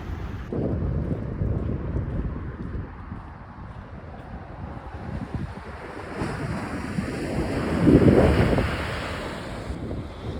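Ocean surf rolls and washes at Sandy Hook beach, with gusty wind buffeting the microphone throughout and a louder swell near the end; no voices.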